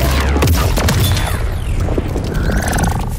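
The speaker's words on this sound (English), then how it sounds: "Activate Sonic Boom!" Peacemaker's Sonic Boom attack from Mortal Kombat 1 hits with a loud, dense blast of booming impacts and mechanical clanks, followed by grinding, creaking debris and a ringing tonal tail fading out.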